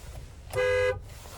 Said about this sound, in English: There's a horn sound.